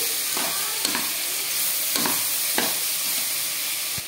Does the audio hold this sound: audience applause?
no